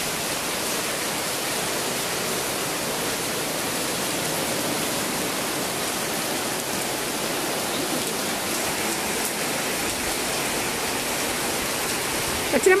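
Steady rain pours down outdoors during a cold, windy spell, a dense unbroken hiss that stays even throughout with no clear breaks.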